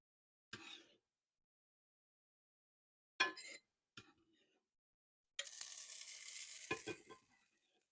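Shrimp dropped into a hot pan of sauce and juices after pasta, giving a few short clinks and scrapes, then a loud, steady sizzle lasting about two seconds before fading.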